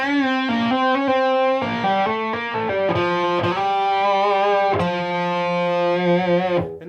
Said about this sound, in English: those licks with the open string sound better kind of when you play them a little faster up to speed